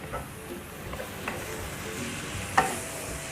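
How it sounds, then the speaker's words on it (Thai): Pork liver stir-frying with sweet peppers in a hot pan gives a continuous close sizzle, with occasional spatula scrapes and one sharper clink near the end. "เราจะผัดให้พริกหยวกนะคะ"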